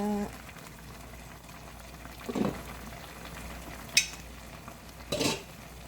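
Oyster, perilla and seaweed soup simmering in a pot gives a soft, steady low bubbling, with a few faint clinks of a utensil against the pot.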